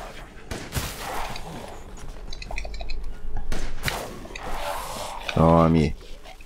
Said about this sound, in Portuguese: quando a gente dá uns tiros de 12 assim